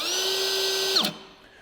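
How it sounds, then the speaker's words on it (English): A DeWalt cordless router runs at a steady high-pitched whine close by, then shuts off abruptly and winds down over a fraction of a second to near silence, with no voices. "Now let's go ahead and fire up the Dewalt."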